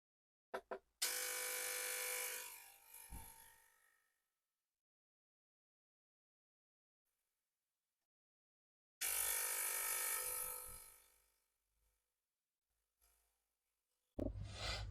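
A DK SONIC ultrasonic cleaner running and heating gives off a harsh, close electric buzz in two separate stretches of a few seconds each, with near silence between them.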